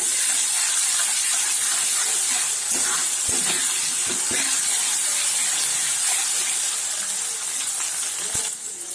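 Chicken masala frying in a pan over low heat, giving a continuous, loud, close hiss and sizzle with a few scattered clicks and small pops throughout.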